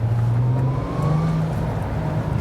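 Six-cylinder engine of a VW Golf R32 Mk4, naturally aspirated, droning steadily at close range while the car drives through a tunnel, with a deep constant hum and a slight rise in pitch partway through.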